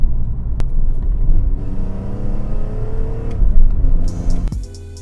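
A BMW M3 E46 drives and accelerates, its engine note climbing steadily in pitch under a rumbling exhaust before cutting off with a few clicks and a quiet tail.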